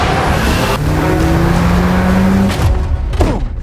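Car engines roar and rev continuously during a film car chase with a police car, with a sustained rising engine whine, passing-vehicle sweeps and a brief tire squeal near the end, loud and close throughout.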